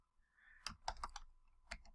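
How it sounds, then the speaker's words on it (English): Several quick keystrokes on a computer keyboard while entering spreadsheet formulas, close and fairly quiet, in short bursts separated by pauses, with no speech. "I'm not even pointing now, I'm just typing it in"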